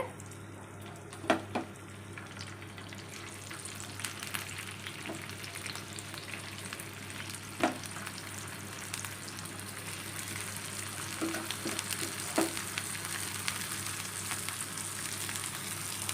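Dried fish fries in a pan with a continuous, even sizzle and occasional sharp pops or stirring clicks, heard close up with no talking over it.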